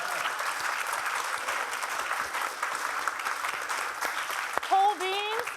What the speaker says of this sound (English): Clap it up for our panelists one time.